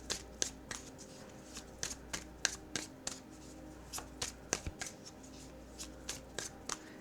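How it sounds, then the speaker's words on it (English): Tarot guidance and advice cards being shuffled by hand, a steady run of soft riffling flicks and taps, quiet and close with no talk. "let's end with pulling one or two guidance and advice cards"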